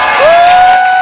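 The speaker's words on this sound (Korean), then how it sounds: "박수 좀." Audience at a Henry busking show at a pub in Euljiro bursts into loud, continuous cheering and applause, a dense crowd roar filling the whole moment with a rising whistle-like tone running through it.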